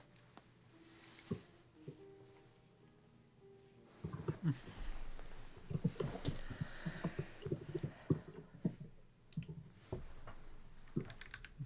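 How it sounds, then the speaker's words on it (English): A computer keyboard is typed on in quiet surroundings. A few isolated taps come first, then a dense run of quick, uneven keystrokes that stops briefly and starts again. Each click is soft and close, and nobody speaks. "The typing."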